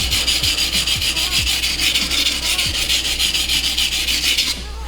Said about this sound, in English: I'm just going to kind of do my normal sharpening